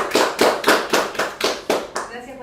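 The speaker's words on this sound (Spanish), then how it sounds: "Un aplauso a Joaquín." Audience applause after a talk at a political lecture event: a few people clapping in seven distinct, evenly spaced claps, near and moderately loud, with no speech.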